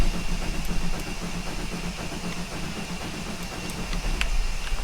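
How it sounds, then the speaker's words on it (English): A steam locomotive in Train Simulator 2019, standing with the boiler being filled on the North Yorkshire Moors Railway, gives off a steady, loud mechanical rumble and hiss that runs continuously with faint ticking on top. "I do apologise if the engine is being quite loud at the minute."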